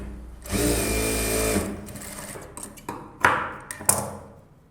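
A sewing machine stitches the front of a blouse in a steady loud run of about a second, then breaks off into scattered clicks, taps and handling knocks from the tailor's work.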